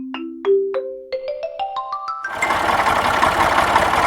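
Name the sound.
tractor engine running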